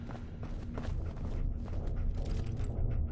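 Lockpicking a locked door in Fallout 4: a steady run of close, scratchy mechanical creaks and ratcheting clicks from the pick working the lock, continuous and fairly loud throughout.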